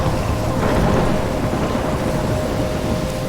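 A thunderstorm in the video game Life is Strange Remastered rumbles loudly, with heavy rain pouring continuously under low rolling thunder and no voices.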